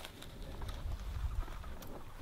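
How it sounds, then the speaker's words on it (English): Outdoors near a secluded house, a low cooing bird call, dove-like and fairly faint, heard over rustling background noise. "That was a bird, wasn't it?"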